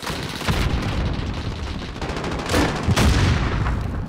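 Gunfire in Call of Duty Modern Warfare: rapid, dense bursts of automatic weapon fire and sharp shots ring out close and loud, with heavier booms mixed in.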